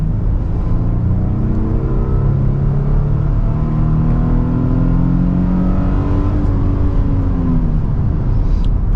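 A 2022 Nissan Frontier PRO-4X pickup accelerates on the highway. A loud, steady engine drone rises in pitch through the gears, with constant road rumble and whirring tires and no talking.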